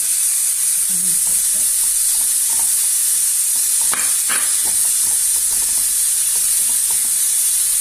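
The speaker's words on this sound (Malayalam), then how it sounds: "ചെമ്മീൻ ഇട്ട് കൊടുക്കുന്നുണ്ട്." Prawns frying in a pan over low heat, a loud continuous sizzle and hiss with repeated scraping stirs of a spoon and a couple of sharper clatters near the middle, heard close up without any voices.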